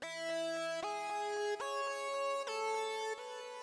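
A bright, sustained amapiano lead tube synth made in FL Studio Mobile plays a slow solo line of long held notes, changing pitch every second or so, clear and alone.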